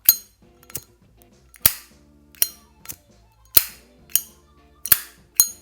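A Zippo lighter's metal lid clicks open and snaps shut again and again in sharp, crisp metallic clacks, about one every half second, close-up and with nothing else heard.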